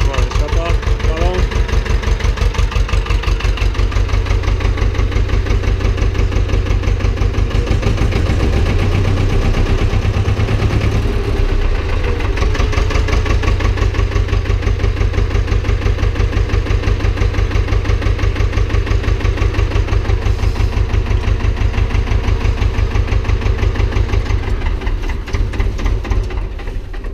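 An Ursus C-330 tractor engine idles steadily with a loud, close, even diesel chugging that holds constant throughout, with no talk over it.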